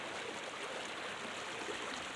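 Small waterfall and running water in a valley after heavy rain, a steady, continuous rushing wash without pauses, fairly close and even in loudness throughout.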